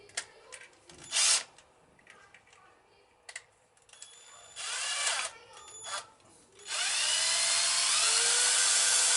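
A power drill whirs in short bursts and then a longer steady run during front brake and clutch service on a Suzuki GR650 Tempter motorcycle, close and fairly loud with small handling noises between bursts.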